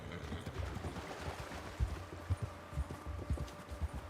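Horse hooves clop in Red Dead Redemption 2, a loose, uneven patter of footfalls at a walk or trot over a soft background hush, moderately close.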